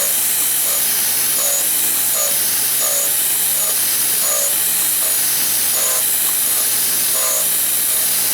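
Steady hiss of an abrasive wheel taking a rough pass across the hardened steel head of a riveting hammer, grinding 1.5 thousandths deep, with faint rhythmic whirring sweeps repeating about every second over a constant machine drone.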